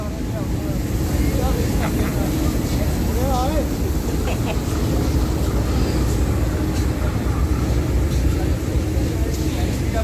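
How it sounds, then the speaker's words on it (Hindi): A GEU40 locomotive hauling two coaches arrives at a crowded Lahore station, its steady rumbling drone continuous and loud under a voice. "GEU40 विद 2 कोचेस आ गया है जनाब साहब अटैच होने के लिए ग्रीन लाइन के साथ"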